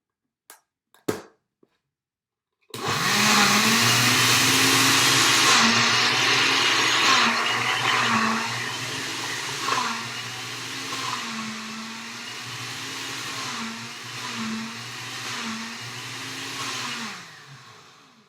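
A few sharp clicks, then a blender starts and roars loudly while mixing a peanut butter smoothie, its motor pitch wavering as the contents churn, before it cuts off near the end.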